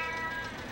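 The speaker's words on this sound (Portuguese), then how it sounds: "Um gato preto!" A black cat meows in a single drawn-out, slightly wavering cry in a comedy TV sketch, loud and close with a faint hiss behind it.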